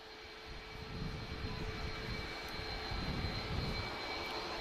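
Distant, faint rumble of aircraft engines at Lisbon Airport, a steady roar with slight swells as planes wait to depart, no voices.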